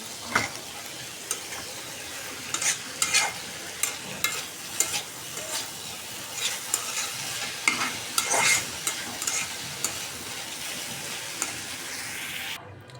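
Vegetable bhaji frying in a pan, a steady crackling sizzle with repeated sharp scrapes and taps of a spatula stirring the vegetables at an uneven rhythm, close and moderately loud with no talking.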